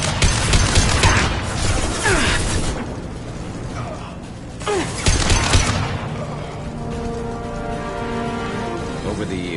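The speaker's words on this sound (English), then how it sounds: "Blue Suns and Vorcha shooting anything that moves." Sustained video game gunfire in Mass Effect 2 from Blue Suns mercenaries and Vorcha: dense overlapping bursts of automatic shots with explosive impacts, loudest in the first few seconds and again midway, over a steady combat din with musical tones near the end.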